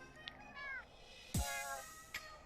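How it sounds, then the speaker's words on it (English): Street cat in the video game Boyfriend Dungeon meowing several times, drawn-out wavering cries mixed with short chirps and one sharp thump, fairly quiet. "What is the cat saying?"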